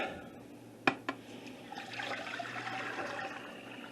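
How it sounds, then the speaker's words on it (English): Hot tap water pours steadily into a Nesco electric pressure canner after a couple of sharp clinks, a soft, rushing stream that holds at a low level to the end. "I just use tap water, hot tap water. I let it run, get hot, and you pour that in"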